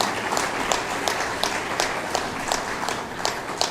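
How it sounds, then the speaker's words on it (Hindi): An audience at a spiritual discourse and bhajan gathering applauds in a dense, continuous wash of clapping, with individual claps popping out rhythmically from the crowd. "सब लोग इनके उत्साह में एक बार ताली बजाते हैं।"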